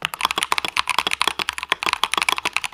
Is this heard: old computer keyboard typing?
yes